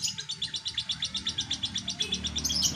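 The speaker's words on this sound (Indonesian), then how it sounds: "Burung-burung kampung." Small village songbirds chirping in a fast, steady run of bright repeated tweets, close and clear over quiet background noise, growing busier toward the end.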